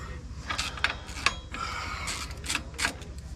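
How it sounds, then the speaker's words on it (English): A hand ratchet works on a bolt at the inner clutch cover of a Polaris RZR XP 1000, giving short bursts of clicking pawl strokes up close, quiet and uneven in rhythm with no talk. "Get your ratchet out."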